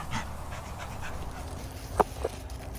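Dogs pant quietly through a garden walk at Highclere Castle on a fine evening, a soft steady breathing texture with a couple of faint short vocal sounds near the end.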